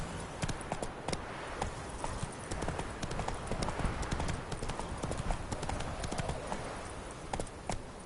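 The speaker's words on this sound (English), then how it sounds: "Not so fast, Roach" Horse hooves clip-clop steadily on the ground in The Witcher 3 video game, a close, continuous rhythmic trot of hoofbeats with faint in-game voices behind.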